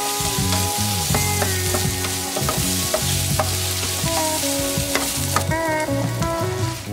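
Diced potatoes fry and sizzle steadily in a seasoned pan, with close, repeated scraping and clanking of a utensil stirring them in an irregular rhythm throughout; no one speaks.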